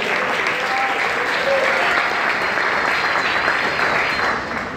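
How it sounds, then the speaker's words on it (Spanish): Sustained applause from a church congregation, loud and steady for about five seconds before easing slightly at the end, with a few voices faintly mixed in. "un fuerte aplauso a nuestro Dios."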